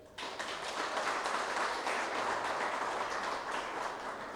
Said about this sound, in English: Special applause to Harish.